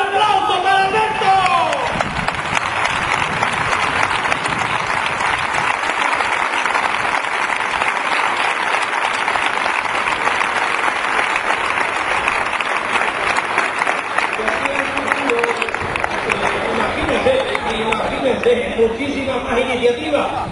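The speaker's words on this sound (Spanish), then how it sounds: "un aplauso para Alberto" Stadium crowd applauding from the stands at a football event in Antequera, a dense, steady roar of clapping that holds for about twenty seconds with crowd noise mixed in.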